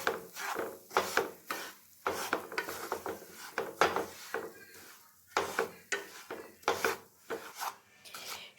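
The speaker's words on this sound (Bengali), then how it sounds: "এই মুহূর্তে আমি এই ঘিয়ের মধ্যে দিয়ে দিব 1 কাপের মতন সুজি। সুজিটা দিয়ে আমি একটু ভেজে নেব।" Semolina being stirred and roasted in ghee, about one cup, for a sweet sooji dish: repeated scraping, rubbing strokes of a spoon against the pan, steady and close, with short pauses between strokes.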